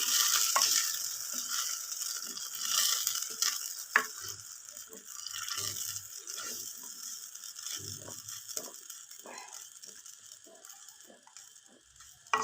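Mustard greens (saag) dropped into a hot pot and stirred, giving a steady bright sizzle with scattered scraping clicks from the spoon that slowly fade over several seconds.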